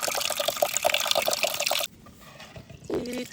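Dry prawns are swished and rinsed by hand in water in a kitchen, with splashing, trickling and dripping close by, a brief quieter pause, then more sloshing and drips.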